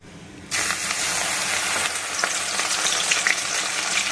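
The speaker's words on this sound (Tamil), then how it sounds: "இப்போது அடுத்ததாக அவல் வந்து வறுக்க போகிறோம்." Flattened rice (aval) fries in oil held in a ladle for Madras mixture, a loud, dense crackling sizzle that bursts in after a brief quieter moment and carries on steadily.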